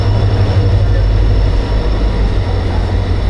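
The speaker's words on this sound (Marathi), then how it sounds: "आणि तुतारी गाडी आली." Tutari Express pulling in at a Konkan railway platform, a steady loud rumble with a constant high whine throughout, close and unbroken, with no speech.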